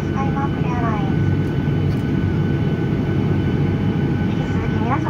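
Steady loud cabin rumble inside a Skymark Airlines Boeing 737-800 after landing at Ibaraki, a constant low engine and airflow roar with faint chime-like tones, no talk.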